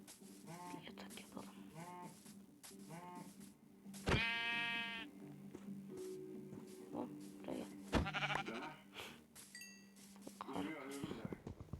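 Blocky Minecraft sheep in version 1.17 give a loud, wavering bleat alone in the middle of the clip, with a second shorter bleat a few seconds later, set against a steady game background and soft clicks.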